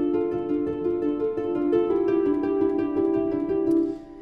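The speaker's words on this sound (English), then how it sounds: "So we have the Spitfire Labs piano, which is sort of working in coalition with our harp" Spitfire Labs sampled piano plays together with a harp in a film score cue, a steady layered tonal passage of sustained notes and soft plucks, moderately loud and alone, fading slightly at the end.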